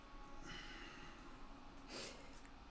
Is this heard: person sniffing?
yes